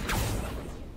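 Accio spell effect in a Harry Potter video game, a quick rushing whoosh with a mechanical edge that sweeps through and trails off within a second.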